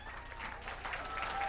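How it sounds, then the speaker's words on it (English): Steady applause from an audience at an awards gala dinner, a continuous wash of clapping that stays fairly even and slightly builds toward the end. "A better round of applause."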